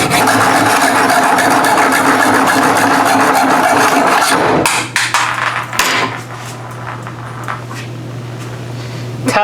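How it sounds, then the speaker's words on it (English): Hacksaw cutting a groove in metal conduit, close and loud, with rapid back-and-forth rasping strokes for several seconds before the cutting stops and a steady hum and a few clicks remain. "At least put a groove in there. When in doubt, hacksaw."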